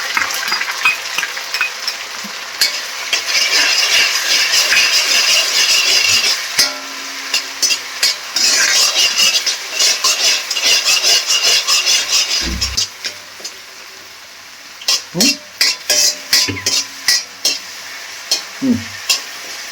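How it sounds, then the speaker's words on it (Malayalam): Ginger-garlic paste with green chillies fries in a pan while a spoon stirs and scrapes it, steady close sizzling broken by repeated rasping strokes, then quieter intermittent scrapes and clinks toward the end. "ഇതൊന്ന് മൂത്ത് വരുന്നത് വരെ ഒന്ന് നന്നായിട്ട് ഇളക്കണം"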